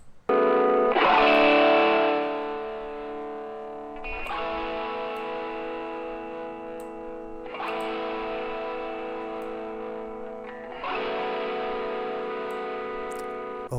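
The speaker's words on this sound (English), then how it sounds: "Now both of these guitars together." A pair of guitars, saturated and compressed with reverb, play together as four sustained strummed chords spaced a few seconds apart, each swelling then decaying, with no voices.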